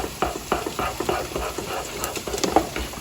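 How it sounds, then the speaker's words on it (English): Cheese Whiz being stirred into grits cooking on the stove, a steady run of wet, rhythmic stirring strokes with soft sizzling underneath, close and without talk. "And I'll mix the Cheese Whiz up into the grits."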